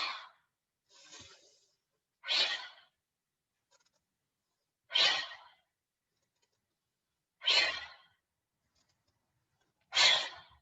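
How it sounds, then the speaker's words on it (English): Five forceful, breathy exhales from a yoga-pilates exercise, each a short rushing huff coming about every two and a half seconds, close and clear with near silence between them. "Inhale up, exhale, a nice ha breath."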